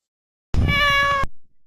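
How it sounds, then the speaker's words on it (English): An app plays a cat sound file: a single clear, loud meow of under a second starts abruptly and cuts off sharply, with no other sound around it. "the sound that got played was cat.mp3"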